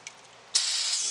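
Carb cleaner sprayed from an aerosol can onto the rim of a John Deere 60 tractor: after a tiny click, a loud, steady hiss bursts in midway and holds close to the mic until the end.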